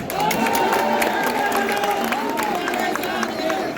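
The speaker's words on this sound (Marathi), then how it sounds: "आज हा जो काही जल्लोष आहे" A large outdoor crowd at an Uddhav Thackeray political rally in Ulhasnagar roars and cheers continuously, loud and dense, with whistles and shouts blending into a sustained din.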